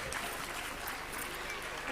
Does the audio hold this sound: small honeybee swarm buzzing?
no